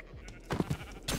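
Sheep in a video game bleat a few times in short, faint calls over a quiet background hum.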